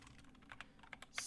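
A handful of quick keystrokes on a computer keyboard type out a folder name, light separate clicks in a short burst, close but quiet, with no one speaking.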